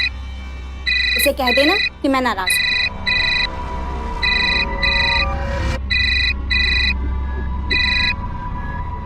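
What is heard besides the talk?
phone ringing with incoming call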